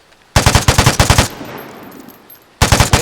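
Automatic M16-style rifle firing in the game Vigor: a rapid burst of about ten loud, close shots, a short pause with fading echo, then another quick burst.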